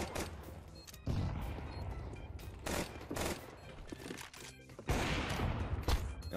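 Gunfire in a video game crackles in rapid bursts and single shots, loud and close, with pauses between volleys.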